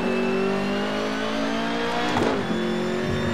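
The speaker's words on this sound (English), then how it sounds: "Take it a little easier on the revs here and try and nurse this fuel" A race car engine in the video game Assetto Corsa holds high, loud revs with steady harmonic whine, dipping briefly as gears shift mid-way before climbing again, a faint tire squeal underneath.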